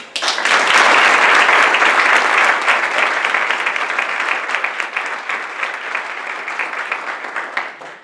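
Audience applause welcoming Dr. Osili at a philanthropy inclusion event, a loud burst of many hands clapping that starts abruptly, holds steady, then slowly thins and fades out over about eight seconds.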